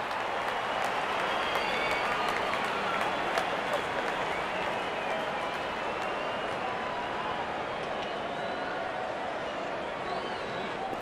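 A cricket stadium crowd at a one-day international applauds a boundary four, a dense, steady wash of clapping and cheering that carries evenly throughout without breaks.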